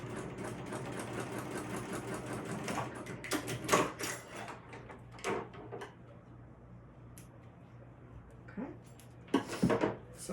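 A sewing machine runs two reinforcing rows of stitching on a crossbody bag, humming softly at first, then giving way to intermittent clicks and handling knocks; the whole passage is fairly faint.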